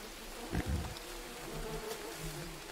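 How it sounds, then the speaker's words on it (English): A steady insect-like buzzing of bees in the video game Green Hell drones throughout, with a couple of low thumps near the start, fairly quiet and continuous. "I guess that's the bees making that sound."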